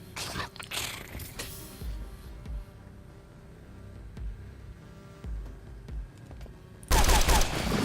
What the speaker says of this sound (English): I'm gonna have to bust out the mag rifle for this.